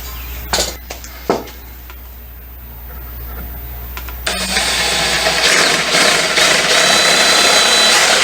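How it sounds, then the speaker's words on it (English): A few sharp knocks, then a power drill whirs up loudly and runs steadily at close range, drilling holes in a table saw sacrificial fence, its high-pitched grinding whine holding for several seconds. "So that's why I'm going to drill the holes in"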